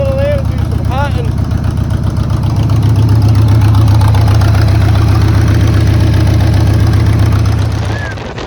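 A Harley-Davidson Sportster motorcycle engine runs loud and close, a thick, pulsing low rumble that holds steady for several seconds before easing off at the end, with brief voice-like sounds early on.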